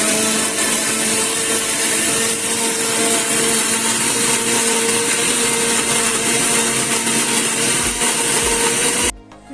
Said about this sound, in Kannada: ಸೊ ಇನ್ನು ನಾವು ಇದನ್ನು ಗ್ರೈಂಡ್ ಮಾಡುವ. ಒಳ್ಳೆ ಫೈನ್ ಪೇಸ್ಟಾಗಿ ಗ್ರೈಂಡ್ ಆಗಬೇಕು.